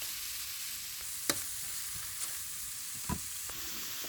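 Ramen noodles sizzling in a pan with steak for beef fried ramen, a constant loud hiss of frying broken by a few sharp utensil taps, close up and with no talk.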